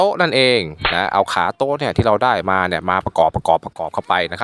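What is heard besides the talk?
No distinct noise like a dog, phone or traffic.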